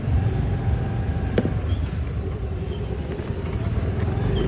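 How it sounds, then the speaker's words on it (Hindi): Heavy road traffic of cars and motorcycles in India hums as a steady low rumble, with a brief horn-like tone and engines droning close by throughout. "शिट मैन इन्ना ज्यादा ट्रैफिक"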